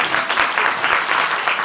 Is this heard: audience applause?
yes